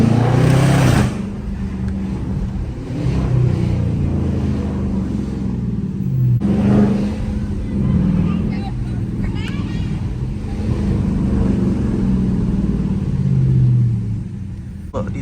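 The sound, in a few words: Dodge Charger RT driving with no hood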